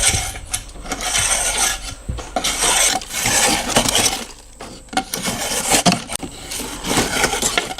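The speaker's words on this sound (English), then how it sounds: "I'm going to take the big bumps off with a hand planer." A hand plane takes the big bumps off a glued wood veneer block. Repeated rough scraping strokes come in irregular bursts, with short gaps between passes.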